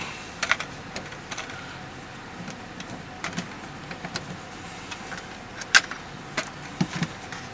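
Screws being backed out of the radio bezel on a 2009 Dodge Ram 1500 with a T20 driver, giving a run of small, close clicks and ticks over a quiet background with no voices.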